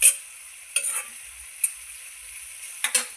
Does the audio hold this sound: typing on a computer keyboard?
no